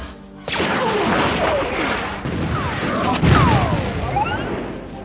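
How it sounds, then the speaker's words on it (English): A dense Star Wars battle sound mix of roaring spaceship flybys, booming explosions and blaster shots layered together. Swooping pitch sweeps and crashes overlap continuously at full loudness. "You'll hear spaceships, explosions, and stuff, shots like that."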